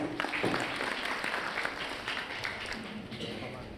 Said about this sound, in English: Let's appreciate him with a round of applause.